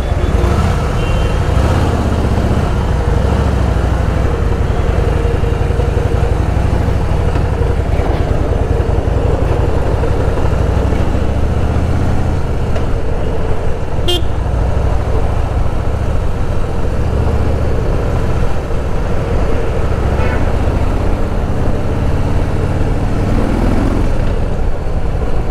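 Heavy weekend road traffic heard from a Harley ride, a loud continuous engine and road rumble with passing vehicles and a brief high horn or beep.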